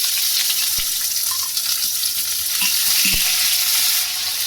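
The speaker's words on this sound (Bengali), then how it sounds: "এখানে পেঁয়াজটাও দিয়ে আমি হালকা করে একটু ভেজে নিয়েছি" Onion and green chili frying in a pan with ginger for an aloo nasta dish, a steady close sizzle throughout with a few soft clinks of a spatula stirring.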